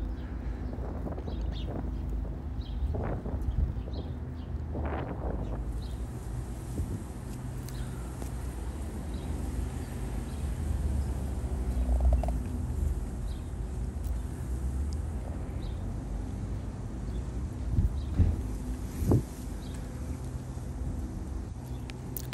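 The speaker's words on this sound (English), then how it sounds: "It was very windy, as you can tell." Steady, blustery wind roars and buffets the microphone on a seaside clifftop throughout, with occasional louder gusts and low rumbling, no voices.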